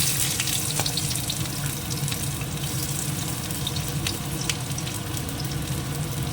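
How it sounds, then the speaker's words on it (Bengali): Chopped onion frying in hot mustard oil with a dried chilli and cumin, a steady, fairly loud sizzle with scattered pops and crackles and no talk. "পেঁয়াজটা একটু ভেজে নিই"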